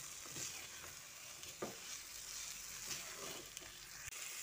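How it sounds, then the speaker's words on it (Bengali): Small new-season potatoes and shelled peas are stir-fried with spices for aloo dum, giving a faint, continuous sizzle broken by occasional scraping stirs of a spatula in the pan. "এবার আলু ও মটরশুঁটিটা মশলার সঙ্গে একটু ভালো করে কষিয়ে নিচ্ছি।"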